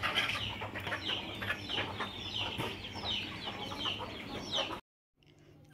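Chickens cluck and squawk in agitated bursts at night as they are caught and put into a coop, close and continuous, before a brief sudden silence and a faint return near the end.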